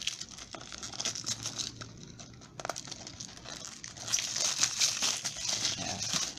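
Plastic wrap crinkling and tearing as it is peeled off a 100ml Calvin Klein Eternity perfume box, close and fairly soft, with irregular crackles that grow busier toward the end.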